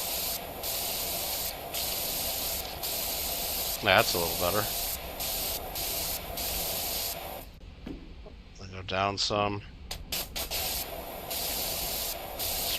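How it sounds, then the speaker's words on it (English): A pressure washer in PowerWash Simulator 2 hisses steadily as it sprays a ladder, a loud continuous jet that cuts out briefly, while someone talks over it. "just point down and spray a bunch"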